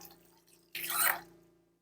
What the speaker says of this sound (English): Rinse off my sticky fingers.